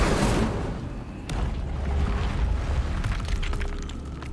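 An Incendio fire spell is cast in the Hogwarts Legacy video game, opening with a loud booming burst and followed by a rumbling, crackling fiery roar with scattered sharp pops.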